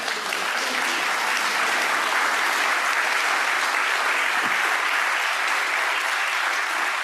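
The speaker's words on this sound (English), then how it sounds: "A big round of applause for Mr." A meeting audience delivers a steady, even round of applause, dense clapping filling the room at moderate loudness throughout, with no talking over it.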